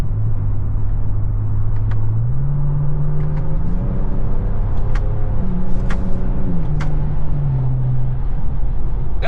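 A 2025 Ford Ranger Raptor truck accelerates hard in manual mode, engine note climbing then dropping sharply through several quick gear shifts, a loud continuous rumble heard from inside the cab.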